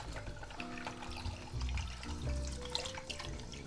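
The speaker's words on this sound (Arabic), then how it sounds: "نفتح لها شوية مي هيك" Tap water runs in to rinse freshly developed 35mm film at home, a close, splashing stream with gurgling tones and a few brief drips and knocks.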